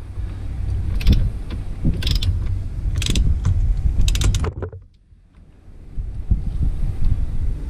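Ratchet fitted with an extension tightens a bolt on a Ford F-350 with a 7.3 IDI diesel. Close, repeated clicking strokes come in bursts over steady background noise, followed by a brief near-silent pause and then more faint working sounds.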